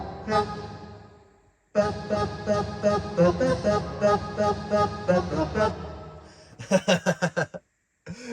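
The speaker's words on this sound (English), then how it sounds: "orchestra hit" Orchestra hit voice on a Yamaha PSR-740 keyboard, played as a rhythmic run of punchy stabbed chords, followed by a few sharper short hits near the end.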